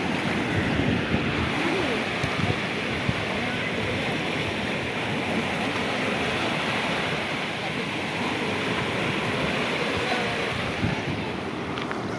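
Sea waves wash steadily onto a beach with a constant loud roar and hiss of surf, wind noise brushing the microphone, and faint voices mixed into the wash.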